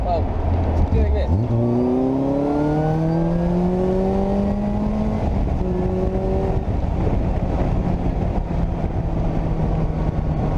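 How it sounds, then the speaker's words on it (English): Caterham Seven 270S engine roaring up through the revs after a downshift, pitch climbing steadily through several long pulls, loud and close with heavy wind rush. "Just dropping it down a cog and,"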